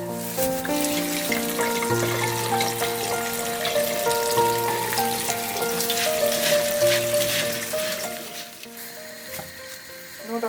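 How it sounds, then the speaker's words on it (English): Steady splashing and running water over a constant background hum and tones, continuous and close, as berries are rinsed under a tap. "Now it's time to wash the berries."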